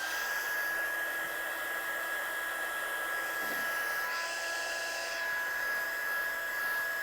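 A heat tool blows steadily while drying a watercolour card, a constant whining, fan-like whoosh with a high tonal hum, close and unbroken, its pitch shifting slightly midway as it moves.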